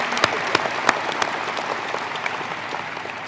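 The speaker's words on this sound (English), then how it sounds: "Let's have another round of applause for all three of our incredible student speakers." A commencement ceremony crowd applauds steadily, a dense wash of clapping with a few sharper claps standing out near the start, fairly close and continuous.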